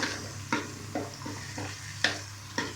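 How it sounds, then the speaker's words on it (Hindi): Ground spices such as dry coriander powder tipped into chicken browning for a dhaba-style karahi: a low steady sizzle broken by about five sharp clatters and scrapes spaced roughly half a second apart. "अब हम इसमें सारे मसाले जो है वो डालेंगे।"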